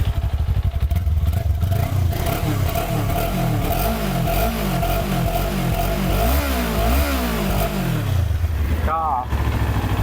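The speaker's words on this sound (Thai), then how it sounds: "เดี๋ยวเรามาฟังเสียงท่อเดิมกัน" A 2019 Kawasaki Ninja 400 ABS on its stock exhaust idles close by, then revs repeatedly in rising and falling pulses before settling back. Someone talks over the engine.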